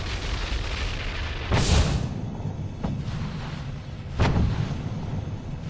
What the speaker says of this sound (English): the gases suddenly expand and the volcano violently erupts